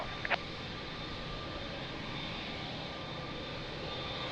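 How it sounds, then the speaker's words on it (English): An Etihad Boeing 787 Dreamliner's jet engines roar at Lisbon Airport, a steady broad distant rumble and hiss that holds evenly throughout, with a brief faint click near the start. "Beautiful Etihad 787"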